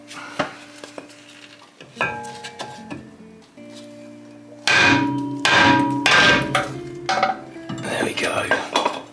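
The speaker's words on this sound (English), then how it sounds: "Time to get the big hammer out." A big hammer repeatedly strikes a corroded brake disc on a VW Passat GTE B8 during disc removal, sharp metallic clangs with ringing tones, sparse at first and then heavier, louder blows in quick succession.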